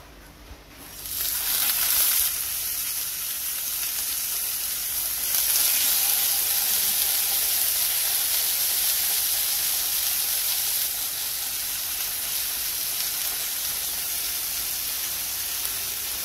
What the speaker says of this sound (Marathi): आतां नुस्तें फ्राय करपाक जाता